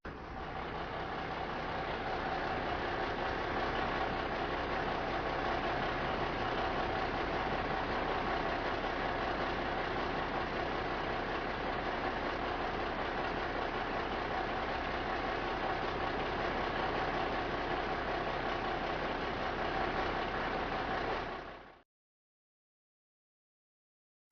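Large hydraulic crane with an extendable jib idling, a steady, even engine rumble held for about twenty seconds before stopping, with no voices.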